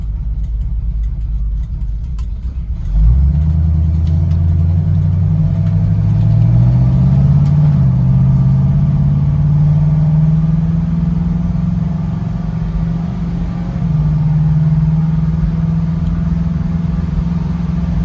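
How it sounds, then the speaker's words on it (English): A 1967 Pontiac Firebird with a 400 engine and Turbo 400 transmission drives on the road, its deep V8 rumble rising steadily as it accelerates, loud and close, with no talking. "we're going to take the 1967 Pontiac Firebird out for a drive, just so you can get an idea how it sounds on the road"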